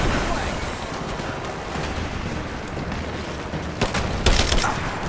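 Gunfire crackles in a dense, continuous barrage during a firefight in the video game Rise of the Tomb Raider, with shouting voices heard over the shooting.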